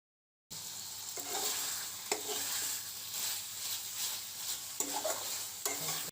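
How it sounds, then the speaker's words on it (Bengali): A spoon stirs washed, cut meat with spices in a frying pan for tehri, with a steady sizzle under repeated scraping strokes at a regular pace, close and fairly loud, with no talking. "ধুয়ে কেটে রাখা মাংসটা দিয়ে মশলার সাথে ভালোভাবে মিশিয়ে নিতে হবে"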